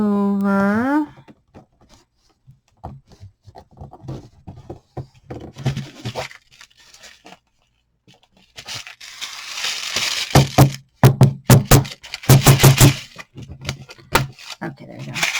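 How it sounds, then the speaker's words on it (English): Tape is peeled off and paper card stock is folded over in close, quiet crinkles and rustles, followed by sharper, louder scraping and creasing strokes near the end; a brief tone sweep opens it. "now you are going to take the last piece of tape off and fold it over"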